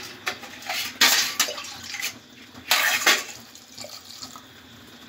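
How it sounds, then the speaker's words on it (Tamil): Water is poured into a pot of vegetables for sambar, heard as clattering splashes and gushes in several bursts, close and fairly loud, with no speech. "வெஜிடபிள்ஸோட அது வேகிறதுக்கு தேவையான அளவு தண்ணி ஊற்றிக்கிறோம்."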